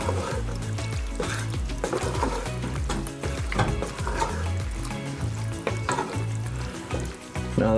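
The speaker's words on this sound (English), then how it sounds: "Give this a quick little stir." Moose chili with diced tomatoes is stirred in a pot, producing continuous wet squelching and bubbling sizzle with irregular scraping strokes at close range.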